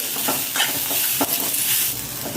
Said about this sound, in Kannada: ಜೀರಿಗೆ ಹಾಕಿದ ಮೇಲೆ ಸ್ವಲ್ಪ ಕರಿಬೇವು ಹಾಕಿಕೊಳ್ಳಿ ಮತ್ತು ಸ್ವಲ್ಪ ಎಣ್ಣೆ ಹಾಕಿ ಹಾಕಿದ ಮೇಲೆ ಈಗ ಸ್ವಲ್ಪ ಉರಿಯಿರಿ